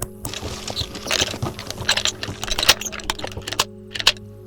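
Placing a claymore mine in the video game DayZ gives a busy run of small metallic clicks, rattles and handling clatter over about four seconds, close and fairly loud against a steady low game hum.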